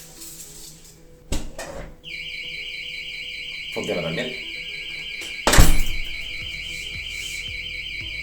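A door thuds, then a loud, continuous warbling electronic home burglar alarm, triggered by a door sensor, starts and keeps sounding, with another clunk and a brief spoken remark over it.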